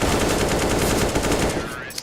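Rapid AK rifle bursts from an esports shooter match, dense sustained automatic fire that fades out near the end, under a commentator's voice.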